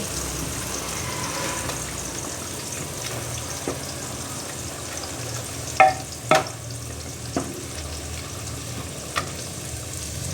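A tempering for turnip curry sizzles steadily in hot oil, with soft, continuous frying hiss. A few sharp utensil clinks and stirring knocks stand out now and then, and no one speaks.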